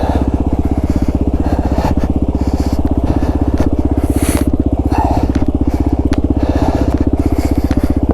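A Kawasaki KLR 650 motorcycle climbs an icy hill, its single-cylinder engine thumping loud and close in an even, rapid pulse, with faint scrapes over it.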